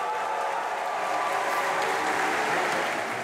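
A crowd at a Jeunes Républicains rally applauds for Valérie Pécresse, a dense, steady wash of clapping that holds at an even level throughout, with no voices standing out.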